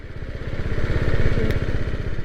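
Motorcycle engine running steadily at close range, a rhythmic low thumping pulse with mechanical clatter while the clutch lever is worked, no voices.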